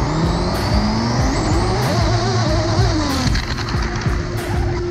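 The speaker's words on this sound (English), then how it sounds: "I also attempted some full throttle runs." A 100+ km/h RC car fitted with an active DRS wing runs at full throttle, its electric motor whining and rising in pitch through several sharp bursts, loud and close, with tire noise and no talk.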